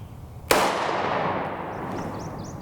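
A single 5.7x28mm shot fired with Elite Ammunition copper solid DevestaTOR prototype rounds: one sharp, loud crack followed by a long fading reverberation over outdoor background noise.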